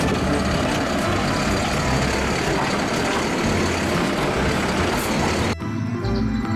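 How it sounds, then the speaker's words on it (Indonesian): A garbage truck's engine rumbles loud and steady, close by, with a broad noisy roar that cuts off abruptly near the end. "ada mobil truk sampah."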